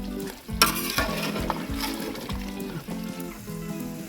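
Chicken sizzles and fries in a pan for Hyderabadi chicken dum biryani while a utensil stirs it with light scraping, close up and steady, with no talk.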